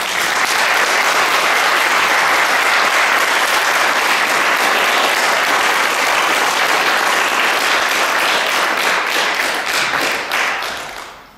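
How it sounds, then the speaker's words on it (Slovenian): A cinema audience in Domžale gives loud, dense applause after a film screening. The clapping stays steady and continuous for about ten seconds, then tapers off. "prosil za še en aplavz"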